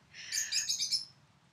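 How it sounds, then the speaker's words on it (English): A pet lovebird indoors lets out a quick flurry of shrill, high chirps lasting about a second, fairly close and alone over a low background rumble. "That's the lovebird."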